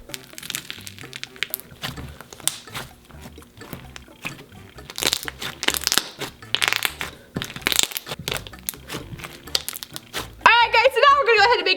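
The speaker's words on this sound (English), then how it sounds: "It is a pink thick slime with like foam beads at the top" Thick pink slime topped with foam beads is squished and pressed by hand, giving bursts of crunchy crackling pops and squelches in an irregular rhythm, up close, with someone speaking briefly at times.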